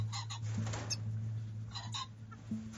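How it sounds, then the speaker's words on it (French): Captive pheasants at a game bird farm, kept in groups of several hens with one male, give a few short clucking calls over a low steady hum. "Les faisans sont détenus en groupe de plusieurs femelles avec un mâle."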